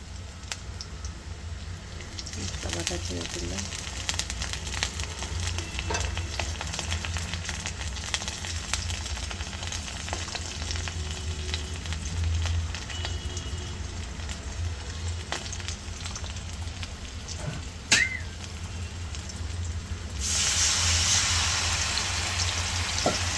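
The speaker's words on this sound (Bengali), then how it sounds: "একটু লাল লাল করে ভেজে নিই আর ভিতরে আমি সব মশলা বাটাগুলো দিয়ে দেবো" Ground spice pastes fry in a pan with a long, even hiss like light rain, broken by a sharp click partway through and growing slightly louder toward the end.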